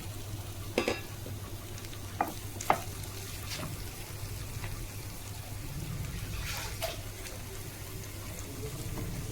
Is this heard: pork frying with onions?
yes